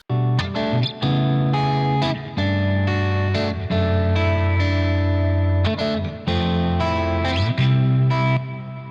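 A doubled music track, two copies panned hard left and right in a Studio One session, plays as bright processed notes with chorus-like shimmer and distortion, loud and continuous with short rhythmic breaks.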